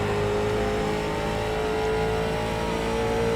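Late model race car engine in iRacing droning loud and constant as the throttle comes on exiting turn 2, a sustained, steadily climbing tone from the cockpit.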